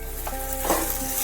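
Okra with sesame seeds sizzles in a pan while being stirred, a close, loud frying hiss broken by scraping stirring strokes. One strong knock lands at the very end.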